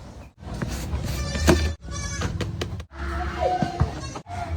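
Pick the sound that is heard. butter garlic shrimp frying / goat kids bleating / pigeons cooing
goat kids bleating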